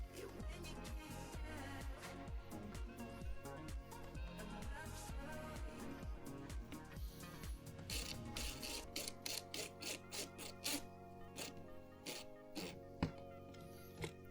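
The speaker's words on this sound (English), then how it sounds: "I need 2 more screws. I'm gonna go ahead and put one in place." Screw being driven in during an Airbus A320 home cockpit build, installing the captain's sidestick and tiller pedestal: a rapid ratcheting, clicking mechanical run that slows into scattered clicks and taps, close and moderately loud with no talking.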